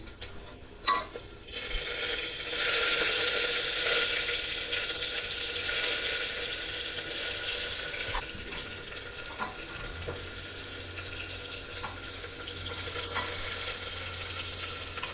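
Onions cooking in a pan, pressure-cooker style, for Odia chicken biryani: a steady close sizzle and hiss with occasional utensil clicks and a low hum entering partway through, no voices.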